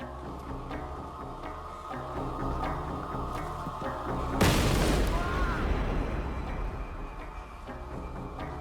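A sudden loud, broadband blast bursts in midway through a crime documentary about the Unabomber's bombing of a computer science department coffee room, then decays into a rumbling tail over a steady mechanical ticking background.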